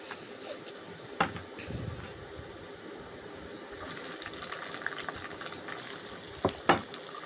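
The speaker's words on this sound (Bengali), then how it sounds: "এবার সবগুলো ভালোভাবে সুন্দরভাবে নেড়ে চেড়ে তেলে ভেজে নেব" Garlic, onion and green chilies fry in hot oil for a radish-greens stir-fry, giving a soft continuous sizzle with a few sharp clinks from stirring.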